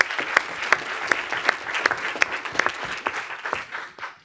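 An audience at a conference session claps steadily for several seconds, a dense patter of hands with a few sharper claps standing out, fading toward the end.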